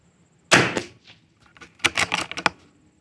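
A rifle fires Lapua long range ammunition at a PRS 22 match: one sharp crack, then a cluster of quicker clattering impacts and bolt sounds nearby, with no talking.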